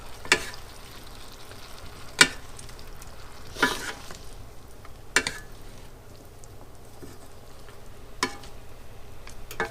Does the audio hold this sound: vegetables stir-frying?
yes